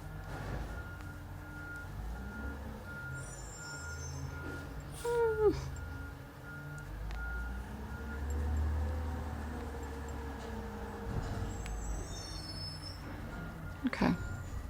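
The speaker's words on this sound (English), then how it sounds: "in case you hear the trash trucks driving by, taking my trash" A garbage truck backs up outside, its reversing alarm repeating evenly spaced beeps at a distance under a low engine rumble, with a few other faint street noises.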